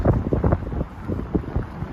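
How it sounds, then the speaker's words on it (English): Strong wind gusts buffet the microphone on a New York City street in Harlem, giving a loud, rumbling, uneven roar close up with no speech. "So windy."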